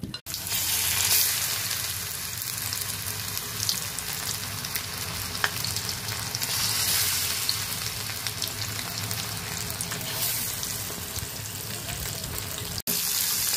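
Amudi fish frying in hot oil, a dense, loud, continuous sizzle and crackle that runs steadily from start to end with only a brief cut near the close.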